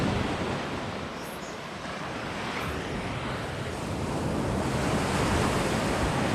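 Surf rolls continuously onto Lanai Beach on Koh Samui, a loud broad wash of breaking waves with wind buffeting the microphone, steady with a slight swell toward the end.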